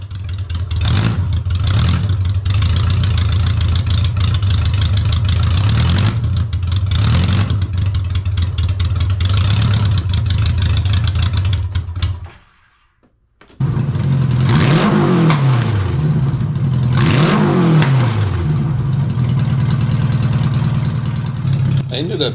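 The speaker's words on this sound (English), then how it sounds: "just the gnarly sound of a flat 4 straight out of the headers" Honda Goldwing GL1200 flat-four motorcycle engine running on open headers: a loud, raw, rumbling exhaust idles and revs in repeated rising blips, cuts out briefly near the middle, then restarts and keeps revving, close up and harsh.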